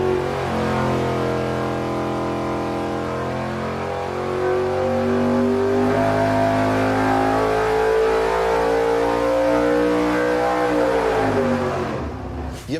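An engine on a dynamometer is run hard on nitrous injection, roaring loud and continuous with a climbing pitch through a full pull before cutting off abruptly at the end.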